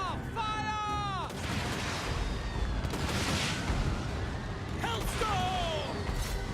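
Empire troops fire at a Leviathan in a Total War Warhammer 2 battle: a continuous roar of massed gunfire and artillery booms with crashing impacts, shouted voices and whistling projectiles over it.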